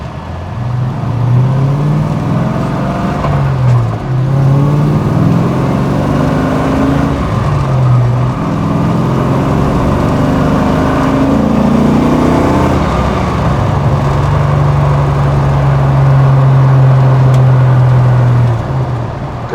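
A 1968 Chevrolet Camaro engine revs and accelerates through several rising pitches, dropping between shifts, then holding a long steady drone, loud and close from inside the car.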